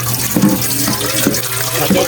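Water runs steadily from a kitchen tap to refill a pot while noodles are being prepared, a loud continuous splashing stream that fills the whole moment with no talking.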